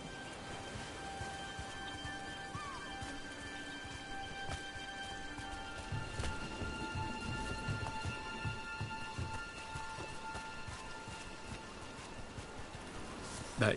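Steady rain falls in a Dragon Age video game scene, a soft continuous hiss with faint scattered drops and low rumbles underneath, fairly quiet throughout.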